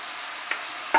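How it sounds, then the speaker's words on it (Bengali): Vegetables sizzle and hiss softly in a pan over medium heat with onion and mushroom, joined by carrot and capsicum for a white sauce pasta, with a couple of brief clinks or stirring touches. "দু 3 মিনিট পেঁয়াজ আর মাশরুমটা ফ্রাই করার পর এর মধ্যে আমি ভেজগুলো দিয়ে দিচ্ছি।"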